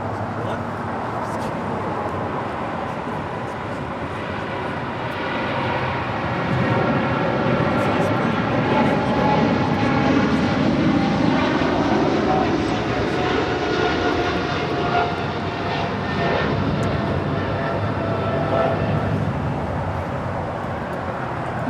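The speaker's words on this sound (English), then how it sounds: "Korean Air 777 now rolling down 25 right" A Korean Air Cargo Boeing 777 freighter rolls down runway 25 right at LAX, its engines building into a heavy, sustained roar that swells midway and stays loud, with radio chatter and talk running underneath.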